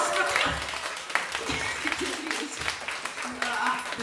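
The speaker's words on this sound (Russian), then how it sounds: "Ну, если вы будете вот так хлопать, как сейчас" An audience at a saxophone ensemble concert claps steadily, a continuous patter with people talking over it.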